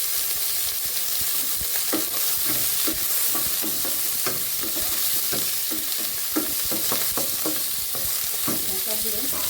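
Tomato fries in a pan for paneer kofta curry, with a steady sizzle under frequent spatula scrapes and clinks as it is stirred at close range.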